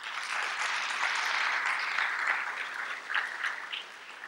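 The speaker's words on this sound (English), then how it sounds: "how about another big round of applause for our organizers?" Audience applause for the organizers at the opening of a JavaScript developer conference, a steady wash of many hands clapping from a large crowd, fading slightly toward the end with no talk over it.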